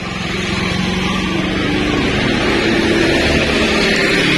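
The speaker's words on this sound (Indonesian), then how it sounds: "Sekarang coba kita nyalakan motornya ya, tanpa kiprok." A Honda CBR 150 motorcycle engine running with its voltage regulator removed, a steady, loud, even drone holding at constant pitch for several seconds with no talk over it.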